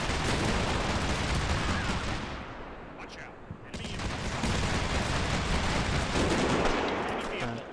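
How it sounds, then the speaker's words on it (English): Rapid 30mm cannon fire in a wargame, a dense, loud stream of heavy booming shots that dips briefly midway and then resumes at full intensity. "then all of a sudden 30mm cannon fire"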